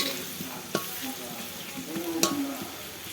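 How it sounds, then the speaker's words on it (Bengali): Sliced onions fry in hot oil for beef biryani, a steady soft sizzle with a few sharp clinks of a spatula stirring against the pan, close and moderate in level with no talk. "তো বেরেস্তাটা আমি সুন্দর করে ভাজি নেব।"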